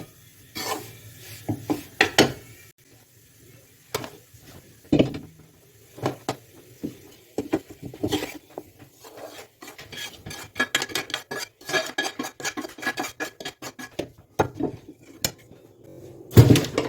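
Metal utensil scraping and clinking against a pan as roasted, golden wheat flour is cleared out for panjiri, a series of irregular close scrapes and taps with no talking.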